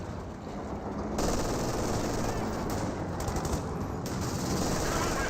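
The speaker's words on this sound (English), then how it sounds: "get suppressed there by the captured MG42" A captured MG42 machine gun fires in the Company of Heroes 2 battle game, sustained rapid bursts layered with distant gunfire across the battlefield, loud and continuous with no talking.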